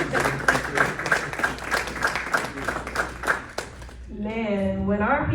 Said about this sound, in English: Let's give our sister another round of applause.